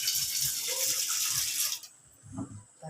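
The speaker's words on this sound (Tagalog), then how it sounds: "Lagyan natin ng tubig." Water runs from a tap into a cooking pot at a home stove, a bright steady gush for under two seconds that cuts off, followed by a soft clunk of the pot.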